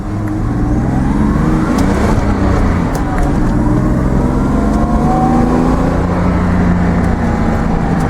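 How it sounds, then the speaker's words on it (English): A Datsun 280ZX Turbo engine revs up and builds boost, its loud tone sweeping up and down continuously from close by, with a slight fuel-starved roughness. "Yeah, she boosts up just fine."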